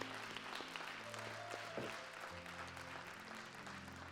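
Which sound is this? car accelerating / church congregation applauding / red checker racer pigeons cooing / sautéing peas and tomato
church congregation applauding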